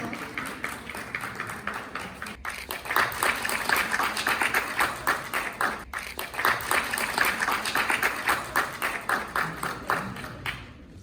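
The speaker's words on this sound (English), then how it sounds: "Please give a huge round of applause." A conference hall audience at JCD Vidyapeeth claps for arriving guests: a full, continuous wash of many hands, close and fairly loud, swelling slightly after the first few seconds and holding steady to the end.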